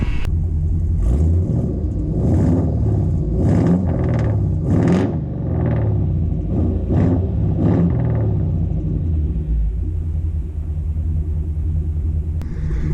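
A car engine idles steadily after a muffler heat-wrap repair, parked in a cattle pasture; a continuous low rumble holds throughout with a few brief revs and surges early on, close and loud, with no talk.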